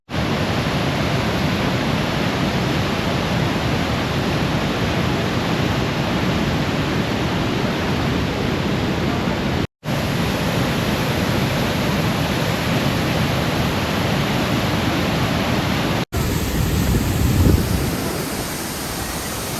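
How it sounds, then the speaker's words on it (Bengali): Usri waterfall thunders nearby in a dense, unbroken roar of heavy rushing water, loud and constant throughout, with two brief cuts in the sound. "পিছনে দেখুন উসরি ওয়াটারফলস, পুরো ভিজে যাচ্ছি, জলের হেভি স্রোত"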